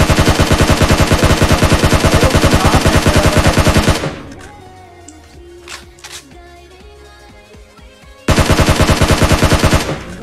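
Gunfire in a mobile shooting video game match: loud, rapid automatic bursts, a pause filled with scattered shots and effects, then another sustained burst.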